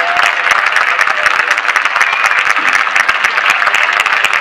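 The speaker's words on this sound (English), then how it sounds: "But let's give a big round of applause to Wendy Weeks." An audience at a 2015 community awards event gives loud, dense, sustained applause for a Citizen of the Year honoree, with no voices over it.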